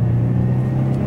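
A Ford Mustang's 3.7-litre V6 runs with a smooth, steady low rumble, close and continuous, with no voices over it.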